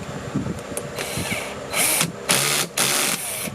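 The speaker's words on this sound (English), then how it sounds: "we're just gonna screw them back together." A power drill drives screws to reassemble the airbox of a 2015 Kia Optima, giving short whirring bursts with pauses between them, close up amid handling clatter.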